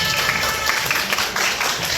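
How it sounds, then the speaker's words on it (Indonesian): Schoolchildren clap together in a classroom, a dense, loud wash of many hands sounding close and continuous for a couple of seconds. "Oke, tepuk tangan."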